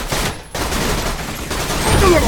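Autocannon fire in Borderlands 2, a loud, dense volley of rapid booming shots that briefly drops out and then resumes, continuing with rumbling blasts and scattered game effects.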